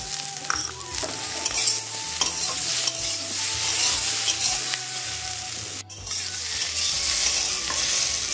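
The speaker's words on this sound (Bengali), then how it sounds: "এবারে এর মধ্যে আমি আগে থেকে খোসা ছাড়ানো মটরশুঁটিগুলো দিয়ে দিই।" Pre-shelled green peas tipped into cauliflower stems frying in a pan, a loud steady sizzle with stirring scrapes and a few clinks, no voices.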